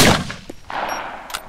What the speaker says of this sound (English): Where's that shot coming from?